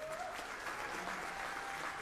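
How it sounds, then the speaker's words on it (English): An audience at a university music school concert gives brief, dense applause, a steady wash of clapping heard at a moderate distance with a faint voice beneath. "how about a round of applause?"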